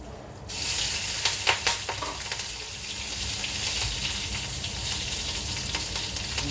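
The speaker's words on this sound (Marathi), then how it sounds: "जिरं टाकू हिंग मिरची टाकू" Cumin, asafoetida and green chili hitting hot oil for a sattvic vegetable dish, bursting into a loud, dense sizzle that crackles steadily with scattered sharp pops and spatters, close up.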